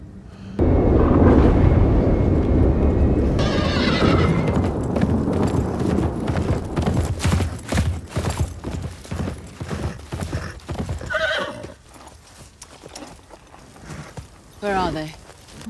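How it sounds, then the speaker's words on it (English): Horses racing toward a tower in a fantasy drama scene, a loud drumming of hooves that thins into scattered clip-clops, with whinnies and neighs breaking through near the end. "They told me to race the horses to the tower as fast as I could."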